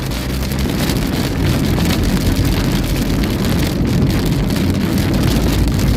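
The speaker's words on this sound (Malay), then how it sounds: "Hujan lebat." Heavy rain drums steadily and loudly on a moving car on the road to Shah Alam, a dense continuous wash of noise with a low road rumble underneath, no voices heard.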